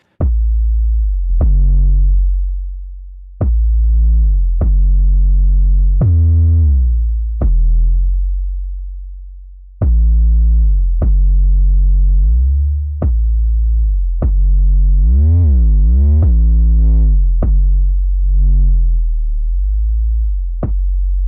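A deep, booming 808 bass plays a melodic pattern of sustained notes with gritty, warm tube distortion, some notes gliding in pitch, with no voices.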